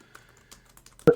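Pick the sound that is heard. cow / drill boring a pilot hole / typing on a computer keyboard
typing on a computer keyboard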